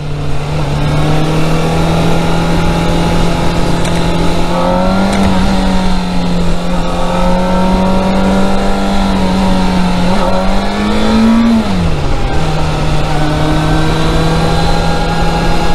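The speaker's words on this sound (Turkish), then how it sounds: "Buradan motorun sesini şuradan rahatlıkla duyabiliyorsun." A racing motorcycle engine with stock exhaust drones loudly and steadily nearby, rising in a couple of revs before settling back to a constant hum.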